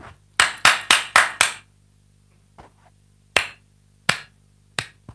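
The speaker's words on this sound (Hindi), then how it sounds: "इनको ताली बजाना सिखा देते हैं" Sharp, close hand claps in an indoor room: a quick run of five claps, then a pause and a few more scattered single claps, each crisp and loud against near silence.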